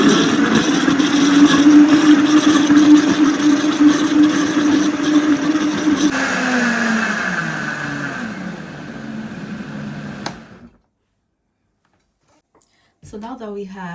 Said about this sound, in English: You're going to close your blender and you're going to give